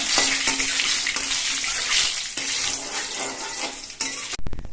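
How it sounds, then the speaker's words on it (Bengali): Dried red chillies broken into pieces and nigella seeds fry in mustard oil, making a constant near crackling sizzle with soft pops and a brief clatter of utensils at the very end. "দুটো শুকনো লঙ্কাকে আমি চার টুকরো করে দিয়ে দিচ্ছি দিয়ে দিচ্ছি অল্প করে একটু কালো দিয়ে কালো দিয়ে আর শুকনো লঙ্কাটা একটু ভেজে নিতে হবে"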